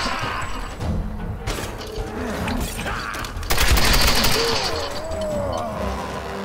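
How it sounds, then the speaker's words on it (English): Rapid machine gun bursts in the Tomb Raider game crackle alongside mechanical clanks and creaks, peaking in a loud dense volley midway, with no talk. "I'm gonna try to use the machine gun"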